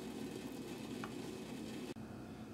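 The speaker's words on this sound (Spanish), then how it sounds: "La papa y la zanahoria la vamos a revolver." Diced potato and carrot stirred in a pan beside freshly cooked guajillo sauce, giving a steady soft sizzling hiss with faint scraping, briefly dipping near the end.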